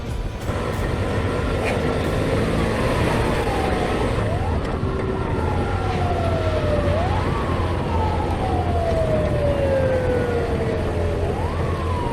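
A wailing emergency siren from a Pakistani Motorway Patrol vehicle sweeps up and down repeatedly over a constant loud Royal Enfield Himalayan motorcycle engine rumble, sounding moderately distant.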